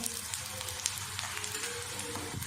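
Makki ki roti, a corn flatbread, cooking in ghee on a pan over low heat, giving a close, steady, even sizzle throughout with no talk.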